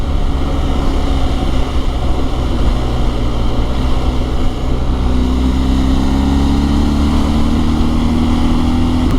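A BMW R1250 GS motorcycle's ShiftCam engine runs steadily with a deep, even drone, and the revs climb slightly about halfway through.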